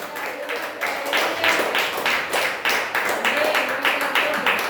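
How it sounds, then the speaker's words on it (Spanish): Church congregation clapping together in rhythmic, strong bursts, a roomful of hands beating in a loose pulse with voices faintly mixed in. "Dale ese fuerte aplauso al Señor."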